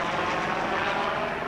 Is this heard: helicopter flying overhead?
yes